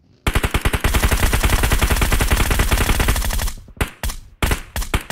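Rapid automatic gunfire from the mobile battle royale game PUBG Mobile, a loud continuous burst of closely spaced shots lasting several seconds, followed by a few shorter separate bursts near the end.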